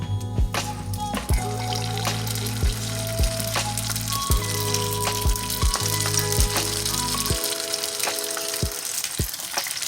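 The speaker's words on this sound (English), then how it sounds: "Now we're going to begin to place our egg rolls in." Cheeseburger egg rolls fry in hot oil with a steady, loud sizzle and crackle, with low humming tones underneath and a few sharp clicks scattered throughout.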